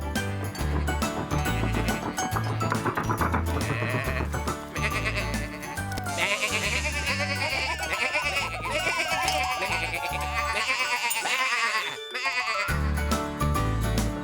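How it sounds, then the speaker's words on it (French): Sheep bleat repeatedly over loud, busy music in a children's cartoon, their wavering calls rising and falling among the instruments. "Regarde, Tom a fait nettoyer ta cloche par les moutons"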